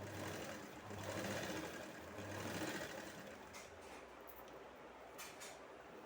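A sewing machine stitches a fall onto a saree, giving a steady, fairly faint mechanical whir with a slight rhythmic pulse throughout and no voices.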